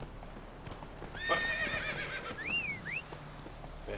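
Roach, the horse in the video game The Witcher 3, whinnies loudly in rising and falling calls over steady hoofbeat clip-clops, close and clear with no speech.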